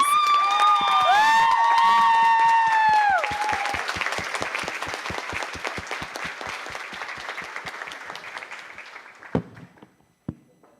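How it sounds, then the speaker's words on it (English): Applause and cheering from a crowd at a July 4th festival ambassador coronation, loud at first over high whoops and shouts, then thinning to steady clapping that fades, with a couple of final sharp claps. "One more round of applause for them, please"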